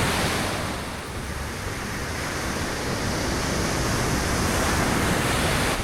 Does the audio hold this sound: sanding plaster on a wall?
no